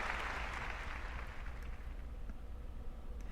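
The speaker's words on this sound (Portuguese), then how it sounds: "Um aplauso para os nossos irmãos de Soacha Compartir" A church congregation applauds its visiting members in a large hall, a steady broad wash of clapping that stays even throughout and slowly fades.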